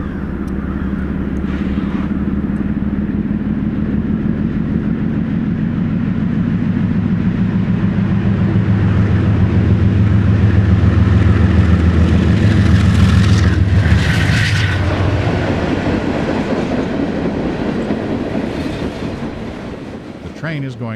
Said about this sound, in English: This train is leaving the west side of Springfield in blowing snow.